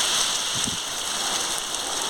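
Heavy rain pours down steadily during a storm with wind, making a loud, dense, unbroken hiss of drops hitting surfaces nearby, with no voices.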